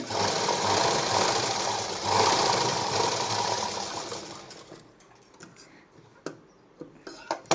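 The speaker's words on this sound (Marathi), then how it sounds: "आपण थोडासा अर्धा इंचावर आपण याला शिलाई मारून घ्यायचे" A sewing machine stitching a blouse runs with a steady, loud mechanical whir for about four seconds, then stops, followed by sharp clicks and knocks as the fabric is handled.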